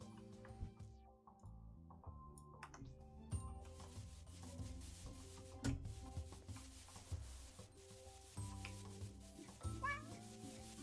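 Kittens in an Animal Shelter game environment mew softly at scattered moments over a busy, steady bed of looping game music and faint rubbing, brushing sounds, with no clear talking.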